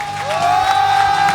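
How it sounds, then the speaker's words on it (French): Live crowd at a statue-painting event for Son Goku and Nappa statues applauding the painters, a steady wash of clapping and cheering with a whistle-like tone running through it. "On peut applaudir encore plus les peintres"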